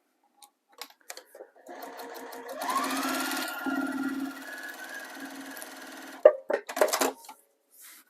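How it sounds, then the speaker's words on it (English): A sewing machine runs a steady stitching burst of several seconds while sewing a foundation paper pieced zipper pouch, loud and close, with brief clicks and handling noises before and after. "we're going to stitch beyond that dotted line and a little bit beyond this line"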